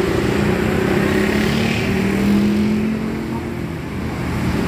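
A Sahala bus pulls away with a steady engine drone and road noise that swell and then ease off, fairly loud and without talk.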